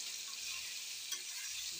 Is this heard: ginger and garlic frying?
yes